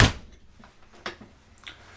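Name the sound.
screen door of a travel trailer patio door being closed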